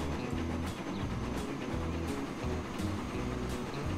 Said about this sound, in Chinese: 它好像是40年代最快的火车，就是跑水蒸气的火车 ，steam engine